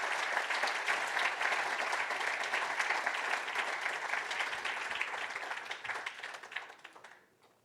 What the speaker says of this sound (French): Et je pense qu'on peut l'applaudir quand même.